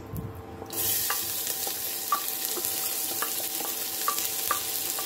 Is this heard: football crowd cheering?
no